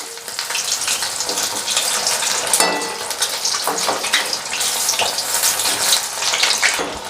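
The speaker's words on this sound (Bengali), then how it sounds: "এক পিঠ ভাজা হয়ে গেলে এগুলোকে উল্টে আরেক পিঠ ভেজে নেব।" Eggs frying in hot white cooking oil in a pan give a steady, close, crackling sizzle that runs unbroken throughout, with no voices.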